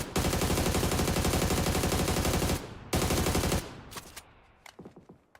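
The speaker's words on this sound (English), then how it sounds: "I'm busily trying to shoot someone out of the air" Rapid automatic gunfire in the video game PUBG, a loud sustained burst of machine-gun fire that breaks briefly and resumes, then trails off into scattered single shots and fading echoes.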